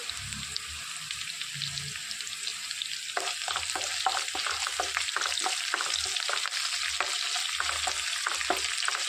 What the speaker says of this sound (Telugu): ఒక రెమ్మ కరివేపాకు తీసుకున్నామండి అది వేసుకొని వేయించుకోవాలి